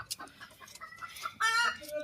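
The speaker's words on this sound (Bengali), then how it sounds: "এই যে মুরগি এগুলো আনছি" Desi chickens on a farm cluck nearby in short, overlapping bursts, with one louder drawn-out squawk near the end.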